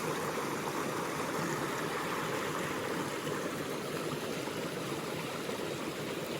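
A river in the Jemez mountains rushing steadily, a dense, even wash of flowing water heard up close, constant in level with no voices or other sounds.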